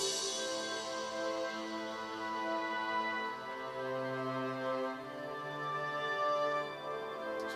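Layered music production passage with a glockenspiel and sustained string parts, bright bell-like tones ringing over steady harmonic pads, moderately loud and continuous with no talking.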